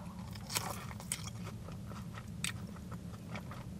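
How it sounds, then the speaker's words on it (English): Crunchy battered sausage with curry sauce, from a Yorkshire fish and chip meal, is bitten into with a few faint, crisp crunches over a low steady background hum, and no talking. "the crunchy batter with the meaty sausage inside"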